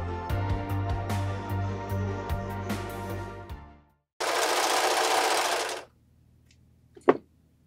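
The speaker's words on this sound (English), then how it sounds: "Now let's serge." A serger stitches a stretch skirt seam, running fast with a steady whirring hum that slows to a stop, followed by a burst of broadband hiss and a single sharp click near the end.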